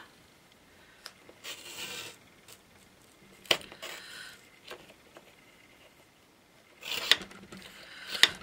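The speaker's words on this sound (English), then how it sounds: "using my my trimmer here, I'm just going to cut that in" A paper trimmer cutting card for a Valentine card makes several short, close slicing and sliding strokes with scrapes and clicks, separated by quiet pauses and no talk.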